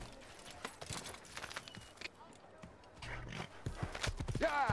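A horse's hooves clip-clop at a quick gallop in the video game Assassin's Creed, with a whinny near the end, while someone talks over the action.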